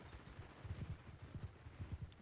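Horses charging into battle in the video game Mount & Blade 2: Bannerlord, a quiet, distant drumming of many hooves in a steady galloping rhythm, with no voices.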